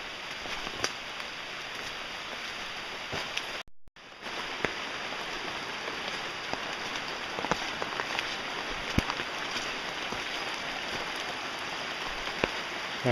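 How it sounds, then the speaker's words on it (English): Steady, dense rainfall pours down with a constant hiss and scattered drop impacts, cutting out briefly for a moment before resuming just as heavily. "Oh good, it's pouring rain."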